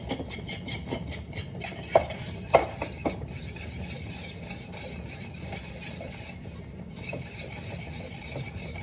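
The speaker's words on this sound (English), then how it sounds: "We're gonna mix that up." Pasta being mixed with eggs and cheese in a pan for Neapolitan cacio e uova, soft steady stirring with a few sharp clinks of a utensil against the pan, no talking.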